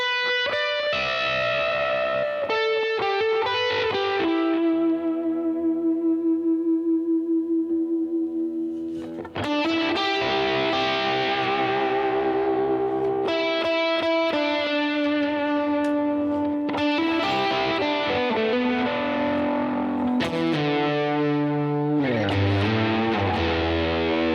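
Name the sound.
fuzz electric guitar with delay pedal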